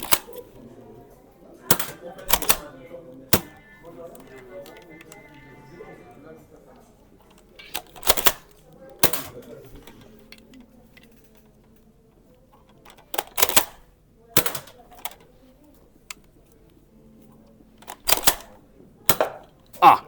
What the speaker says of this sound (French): je vais tirer au blaster nerf avec cette arme